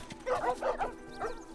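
Dogs in the video game The Last of Us give a few short yelps and whimpering barks in a quick cluster, then one more after a pause, fairly close and clear with no talking over them.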